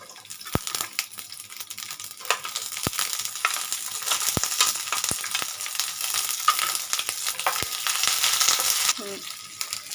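Chopped onion sizzling steadily in hot oil in a pan while preparing soybean manchurian, with sharp spoon clicks against the pan at irregular intervals as it is stirred; close and continuous, no talk.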